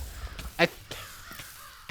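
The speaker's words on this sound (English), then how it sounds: "Oh, those stupid crows." A single harsh crow caw rings out in a Naruto ShinobiCraft modded Minecraft world, fairly close and loud, with quieter clicks and game sounds around it.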